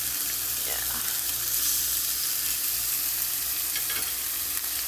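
Chicken thighs sizzle on a Power Smokeless Grill, a continuous loud hiss and crackle throughout with no talk.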